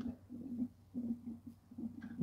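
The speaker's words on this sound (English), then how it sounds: "You can hear the burping and the gurgling." Coolant gurgles and burps inside the cooling system of a 2014 Volkswagen Tiguan 2.0 TSI during a drain, fill and bleed. Soft, close bubbling pulses come in a quick irregular rhythm, with no talk.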